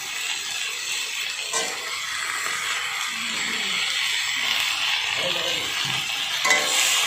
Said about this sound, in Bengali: দিয়ে এবার ভালো করে নেড়ে নিচ্ছি